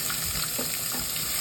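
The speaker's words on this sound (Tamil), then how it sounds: "அப்புறமா வெங்காயம், தக்காளி அதெல்லாம் போட்டு நல்லா வதக்கிக்கோங்க." Onion and tomato sauté in hot oil with mustard seeds, garlic and chillies, producing a continuous close, moderate sizzle with faint stirring and no voices, heard for just over a second.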